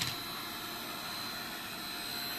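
An electric mushroom dryer runs with a steady, faint whirring hum and airy fan noise under a thin high whine, constant throughout with no speech.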